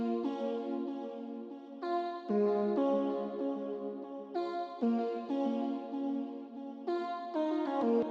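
A bright synth lead patch from an 80s pop and disco inspired beat plays a melodic line of sustained, buzzy notes in repeating phrases, clear and alone.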